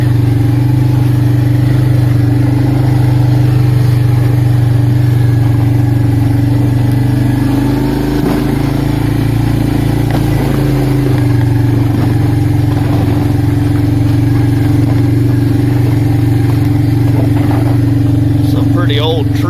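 An Arctic Cat 366 four-wheeler ATV engine drones steadily while riding, a loud, close, continuous low hum with slight variation in pitch, and a person talks occasionally over it.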